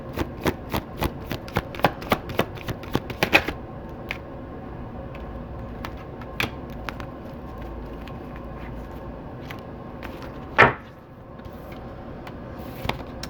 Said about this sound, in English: Let's get 2 cards on this balance card here for Gemini.